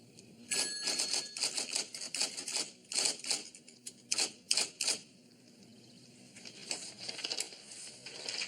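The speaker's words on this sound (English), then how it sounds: "You are looking at the star of Miss Baroni's 12th grade typing class. 80 words per minute." A typewriter is worked fast by a skilled typist in an office, dense bursts of rapid key strikes in quick runs with brief pauses between, crisp and close.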